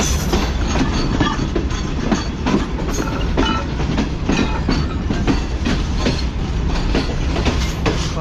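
A coal train rolls past at Khanewal with a ZCU series locomotive, a steady loud rumble and rhythmic clickety-clack of wheels over rail joints throughout.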